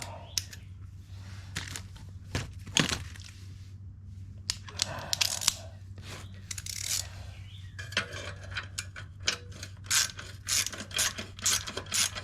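Ratchet with a swivel and 12 mm socket working bolts on a Honda Helix scooter during an exhaust install, giving quiet metallic clicks and ratcheting bursts in a close, rhythmic pattern over a steady low hum.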